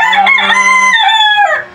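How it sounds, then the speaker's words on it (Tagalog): A rooster crows once in a long drawn-out call, close and loud, with clear harmonic tones that rise, hold, and fall off at the end. "Yung manok ko"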